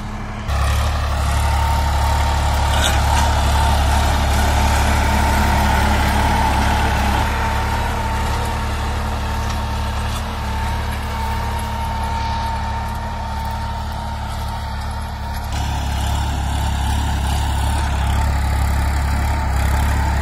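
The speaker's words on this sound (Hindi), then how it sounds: "खेतों में दहाड़ मार रहा भाइयों ये ट्रैक्टर, जोरदार ट्रैक्टर है 35 HP में" A New Holland 3032 35 hp tractor pulls a tiller through a farm field. Its engine runs loud and steady at close range for the whole stretch, with a slight shift in tone near the end.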